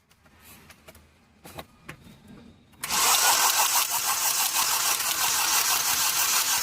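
A Hyundai Verna with a noisy timing chain cranks after a few quiet clicks and fires into a loud, steady idle that carries on to the end.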